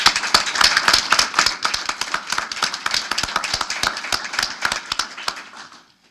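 An audience at a school board meeting claps, a dense burst of overlapping hand claps that holds for several seconds, then thins and fades out.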